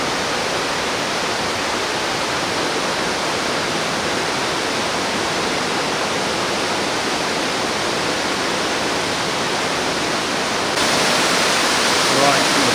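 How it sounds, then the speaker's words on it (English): A loud, constant roar of rushing water fills the whole stretch, steady and broadband, from a fast river flowing through a cave system below a bridge in Phou Pha Souk National Park, Laos. "See the water flowing rapidly down below there through the cave system"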